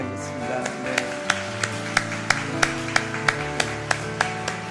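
A church congregation claps in a steady rhythmic beat to welcome a newly arrived visitor, the claps evenly spaced and fairly soft over a background of sustained music.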